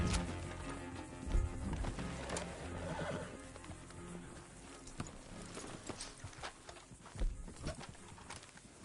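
Horse hooves clip-clopping at a walk in Red Dead Redemption 2, with a loud whinny near the start and steady hoofbeats and snorts under faint game ambience.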